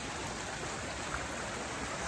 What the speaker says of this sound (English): super fast running river.